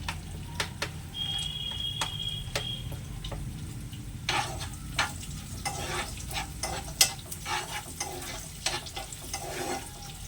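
Cashews and almonds fry gently in a pan with a soft sizzling hiss, punctuated by scattered clicks and taps of stirring throughout.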